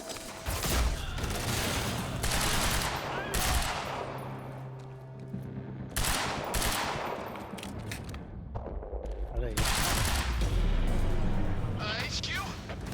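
Heavy, loud gunfire bursts in Quantum Break, several volleys of automatic fire and booming impacts separated by short lulls, with shouting voices mixed in.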